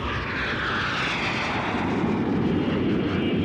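Airplane engine roaring overhead as a steady, loud broadband drone that holds constant throughout, with no talk over it.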